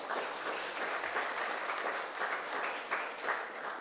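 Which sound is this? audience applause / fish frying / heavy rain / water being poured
audience applause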